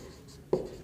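A single pen stroke during a physics lesson, close and fairly soft, with a brief scratchy tap rising out of quiet room tone.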